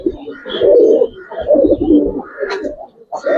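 Giribaz pigeons coo in a loft in repeated soft, throaty bursts, fairly close, with a brief pause before the cooing resumes; a person talks intermittently alongside the birds.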